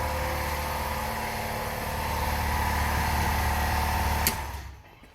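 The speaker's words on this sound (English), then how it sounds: "I need to shut the air compressor off." A shop air compressor runs steadily with a loud, close mechanical drone, then a sharp click sounds and the motor winds down as it is switched off.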